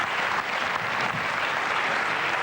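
Studio audience clapping on a French television talk show, a dense continuous wash of applause filling the short moment without any voices.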